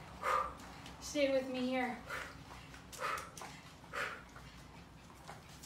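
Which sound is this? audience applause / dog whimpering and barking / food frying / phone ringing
dog whimpering and barking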